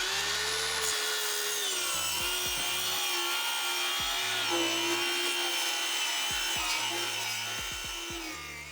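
Thin wooden strips for a large homemade window screen are cut with a whining power saw that runs steadily, its pitch dipping with each bite into the wood, close and loud throughout.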